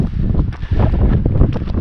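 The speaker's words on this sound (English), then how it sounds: "It's pretty windy up here. It's getting windy." Strong gusts buffet the microphone high on the summit of Mt. Belford, a loud, rough, low rumbling roar that swells and dips over a couple of seconds with no voices.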